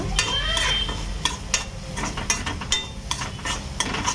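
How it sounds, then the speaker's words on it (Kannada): Fenugreek leaves with egg frying in a pan for a North Karnataka-style palya, with a spatula scraping and stirring in irregular close clatters over a steady low sizzle. "ಇದನ್ನು ಸ್ವಲ್ಪ ಫ್ರೈ ಮಾಡ್ಬೇಕು"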